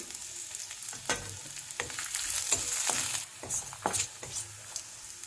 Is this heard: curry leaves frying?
yes